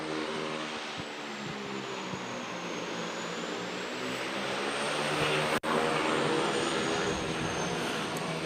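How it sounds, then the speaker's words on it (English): A fixed-wing airplane arriving to land at an airport during a 2023 royal visit gives off a steady, loud engine roar that continues throughout with a slowly shifting high whine, plus one brief break near the end. "the aircraft, which was originally scheduled to land at 10 a.m., is running approximately 15 minutes early"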